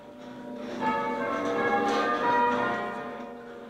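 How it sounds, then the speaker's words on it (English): Church bells ring out in a village to mark the Queen Mother's funeral, a dense, sustained peal of overlapping tones swelling and fading, moderately loud with no voices. "bells to celebrate a long life"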